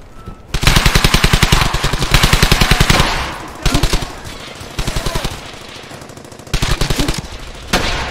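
Rapid machine-gun bursts in Brothers in Arms: Hell's Highway rattle loud and close, a long sustained burst followed by several shorter volleys separated by brief pauses.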